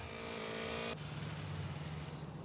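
Honda Hornet motorcycle engine in a GTA mobile game during a wheelie, a high steady whine that abruptly cuts to a lower drone, faint and continuous with no voices.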